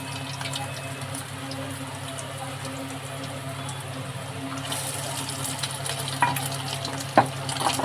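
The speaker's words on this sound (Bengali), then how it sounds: "এইভাবে ভেজে ভেজে তুলবেন।" Egg-dipped pieces fry in oil with a faint, even hiss over a low background hum, broken near the end by a couple of small clicks and light spatters.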